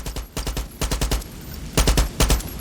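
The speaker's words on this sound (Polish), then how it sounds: "Kto do mnie strzela? Ty do mnie strzelasz?" Gunfire in the video game Far Cry 6: rapid bursts of automatic shots rattle in quick clusters separated by short pauses, loud and close with no voices.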